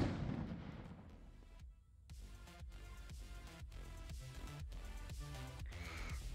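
A grenade explodes in the Midnight Fight Express brawler, one deep boom followed by a string of punchy impacts and bursts over a steady game soundtrack, fairly loud throughout.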